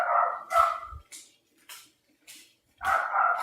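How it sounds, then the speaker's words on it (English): A dog barks repeatedly nearby: several loud, sharp barks with short pauses between them, heard alone without talk. "barking his damn head off"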